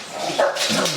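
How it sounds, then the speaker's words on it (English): A dog in a breeding kennel's living room gives a short bark that slides into a whimpering yip, close and fairly loud, lasting about a second. "So this is my dog."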